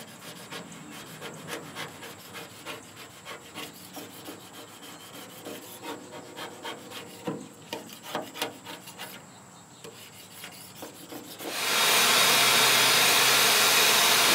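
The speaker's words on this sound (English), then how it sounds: "We're going to use some of this stuff to get the residue from those stickers off, and that way it shouldn't be as hard on that Scotch-Brite pad" Steady scrubbing of a Scotch-Brite pad against a boat hull to lift sticker residue, an uneven rubbing rasp with rhythmic strokes close up, ending in a loud, constant broadband hiss in the last few seconds.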